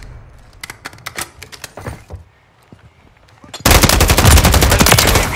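Rapid automatic gunfire in the video game Call of Duty: Modern Warfare III, a loud dense burst erupting after scattered quieter shots and clatter, with faint voices in the background.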